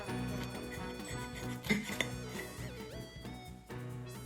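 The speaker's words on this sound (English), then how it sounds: "Plate the sandwiches, and you're done" Dishes and cutlery clink while sandwiches of strawberry jam croque madame are plated, a few light knocks and chinks over a steady musical background.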